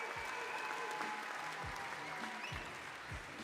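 Crowd applause fills an outdoor arena at a FIBA 3x3 World Tour finals in Amsterdam after a bounce dunk attempt, steady clapping and cheering throughout with a few low thumps underneath.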